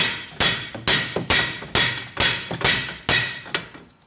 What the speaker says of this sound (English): I'm gonna hit it on that cast iron right there